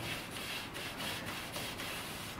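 Old, grimy weather strip on a thin metal window frame being cleaned, heard as steady close rubbing and scraping strokes at a quiet, even level with no talk.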